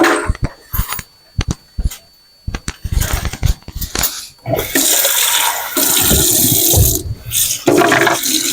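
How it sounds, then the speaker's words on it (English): Tap water pours into a cup in a kitchen, starting with a few clinks and taps of the cup before a loud, steady gushing stream fills it for several seconds. "So let's get a little bit of water in this cup"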